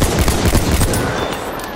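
Rapid automatic gunfire and explosions from a Battlefield 1 team deathmatch game, a loud dense burst of overlapping shots that fills the whole stretch without any voices.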